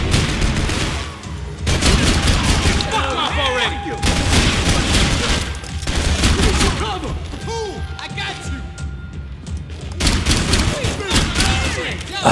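Rapid bursts of gunfire from the Max Payne 3 apartment mission, loud and dense, crackling in clustered volleys with brief lulls between them, alongside heavy impacts and crashes.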